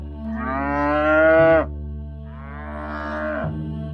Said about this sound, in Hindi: बाहर से अचानक बैलों की तेज आवाज आई